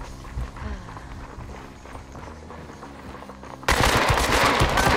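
Gunfire in an online shooter video game: bursts of rapid automatic shots with footsteps underneath, swelling into a loud, dense volley near the end.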